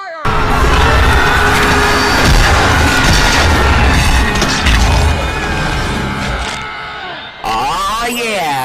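Booming volleys of weapon fire ring out loud and dense after a shouted command, a sustained barrage of blasts and crashes with voices mixed in, easing off before a final burst.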